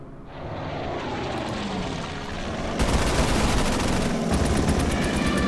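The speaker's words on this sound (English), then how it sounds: "And there was another aircraft coming in" Propeller aircraft engine droning steadily as a plane comes in during a World War II Pacific battle in the strategy game Order of Battle, with bursts of machine-gun fire rising over the roar about halfway through.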